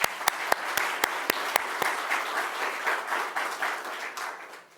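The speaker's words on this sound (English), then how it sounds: "So let's give him a round of applause." An audience at a community event gives a round of applause for an affordable housing project at 950 Broadway, with a few sharp close claps at first that blend into a softer, wash of clapping.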